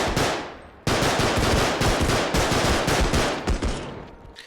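Dense rapid gunfire from automatic weapons in the Bodycam video game, loud and sustained with overlapping bursts and a brief pause early on, tapering slightly toward the end.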